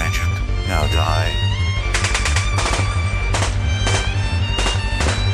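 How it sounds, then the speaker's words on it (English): A gun fires in quick, repeated bursts of close, loud shots, each volley arriving roughly every half second, over a steady droning musical background. "How did you shoot so badly?"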